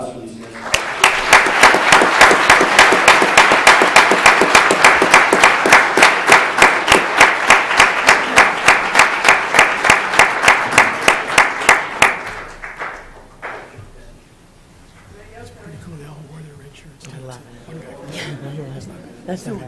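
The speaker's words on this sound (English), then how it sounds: "So, round of applause for these guys." Applause from an audience at a school district governing board meeting, a long run of rapid, steady claps lasting about twelve seconds before stopping abruptly, followed by quieter room noise and faint talk.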